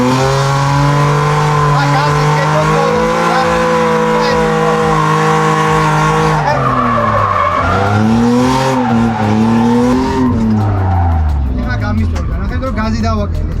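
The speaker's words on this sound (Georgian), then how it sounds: "აი აქიდან დაიწყე დრიფტი" A car drifts with loud, sustained tire squeal and a revving engine whose pitch rises and falls through the slide, and voices talk over it.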